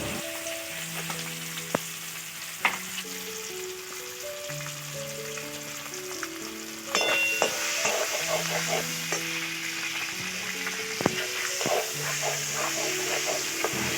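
Black cumin, dried chilli and bay leaf fry in hot oil with rendered fish fat, a steady sizzle punctuated by clinks and scrapes of stirring that swells louder halfway through, with no talking.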